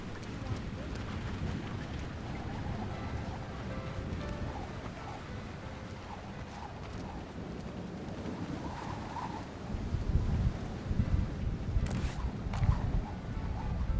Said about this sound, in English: Thunderstorms make me nervous.